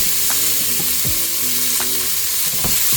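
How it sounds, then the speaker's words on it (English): Onions, chopped garlic and ginger sizzle steadily in a hot pressure cooker, a loud continuous frying hiss with a few scrapes of stirring, no voices. "we're going to go in with some onions, some chopped garlic and ginger."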